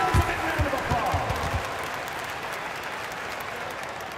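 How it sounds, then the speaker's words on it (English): Crowd applause and cheering from an NBA 2K25 basketball video game, a broad wash of clapping that rises briefly at the start and then holds steady at a moderate level, with a few low thumps early on. "Give yourselves a big round of applause."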